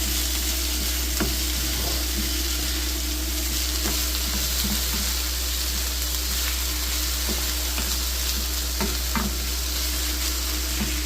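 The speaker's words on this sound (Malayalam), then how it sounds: "പാവയ്ക്ക ഒന്ന് ഇളക്കി കൊടുത്തിട്ട്" Sliced bitter gourd fries in a pan, a steady loud sizzle filling the whole stretch while a utensil stirs through it with soft scraping strokes; no voices.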